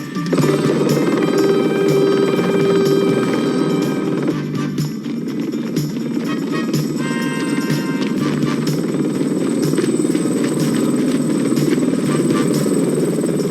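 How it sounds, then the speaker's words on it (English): A helicopter flies nearby, its steady rotor and engine drone loud and continuous through the whole stretch, with scattered clatter and tonal noise over it. "What's that chopper doing here?"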